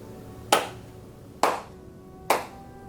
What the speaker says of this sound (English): After the prayer, I make 3 hand claps